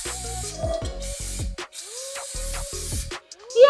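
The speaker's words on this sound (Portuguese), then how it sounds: "Vou untar com desmoldante." Release agent sprayed into a round cake pan in a home kitchen: several short hissing spray bursts in a row, near and fairly loud, with brief pauses and small clinks between them.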